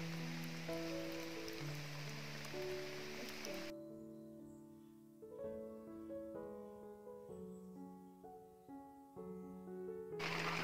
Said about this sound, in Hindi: ये देखिए बारिश आ गई है